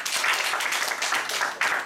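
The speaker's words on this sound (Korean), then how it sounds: "박수 한번 쳐주세요." Brief burst of audience clapping at a university lecture, close and fairly loud, with dense overlapping claps pulsing slightly over two seconds.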